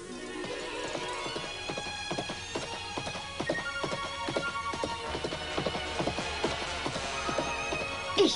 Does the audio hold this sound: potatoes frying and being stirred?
no